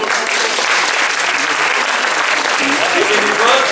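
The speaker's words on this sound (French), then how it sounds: "On les applaudit très très fort." An audience gives loud sustained applause for award winners at a prize ceremony, dense steady clapping throughout with crowd noise mixed in.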